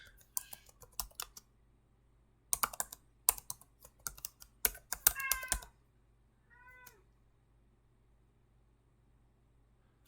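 Fingers clatter across a computer keyboard in quick, uneven bursts of close, crisp clicks, then stop; a cat gives a short meow shortly after in an otherwise quiet room.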